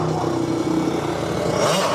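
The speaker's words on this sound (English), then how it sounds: "You on your motorbike, girl. Your broke down motorbike." A broken-down motorbike engine revs loudly and steadily, a rough mid-pitched drone with clattering undertones that swells slightly toward the end, alone without talk.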